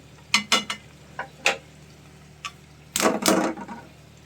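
Fish pieces in a kadai swirled gently on the stove, a series of short scraping and sloshing bursts, several quick ones early and a longer louder swirl toward the end, with no voices.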